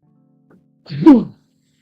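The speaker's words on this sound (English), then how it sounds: "I am sneezing." A single loud, close sneeze, a quick intake followed by a sharp burst, then silence.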